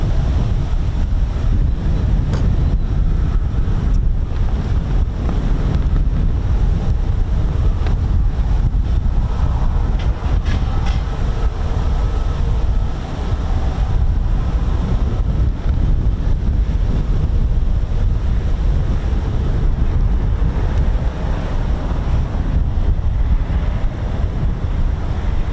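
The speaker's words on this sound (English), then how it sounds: "That wind." Strong wind blows outdoors at an RAF airbase, a loud, continuous roar and buffeting across the microphone with no talk.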